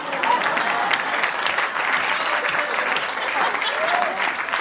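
Steady applause from a sizeable audience at a Hindi poetry recital, dense clapping continuing at an even level throughout without pause.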